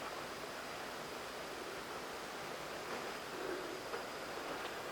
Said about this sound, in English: Hey, you can hear the rain.